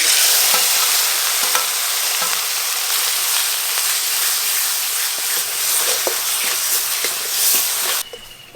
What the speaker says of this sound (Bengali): এবার কিন্তু মশলা খুব ভালো করে কষতে হবে।